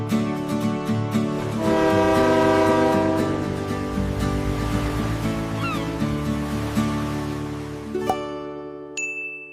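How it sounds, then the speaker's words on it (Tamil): Toy train ride at Elephanta Caves, a dense steady rumble of the running train with sustained horn-like tones layered over it, loud throughout before cutting off near the end, with a faint ding and no voices. "டாய் ட்ரெயின். போகலாமா?"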